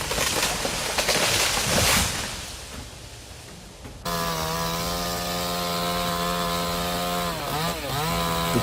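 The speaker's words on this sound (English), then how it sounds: "How long do you think it will take him to take down this giant monster with that giant chainsaw?" Chainsaw cutting down a giant tree: a rough, noisy cutting burst is followed by a steady, loud, high-pitched engine whine that dips briefly under load and recovers.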